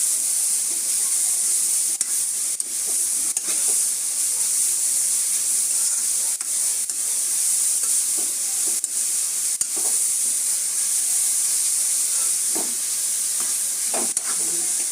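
Grated carrots fry in ghee for carrot halwa, a steady, loud, hissing sizzle with occasional stirring scrapes and clicks throughout, no talking.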